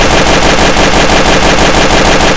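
A TMP submachine gun in Counter-Strike: Source fires a dense, unbroken automatic burst, loud and rapid, with shots running together in fast rhythm and no voices over it.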